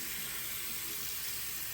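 Tap water runs steadily into a sink while a makeup sponge is rinsed, a continuous close, even rush with no breaks.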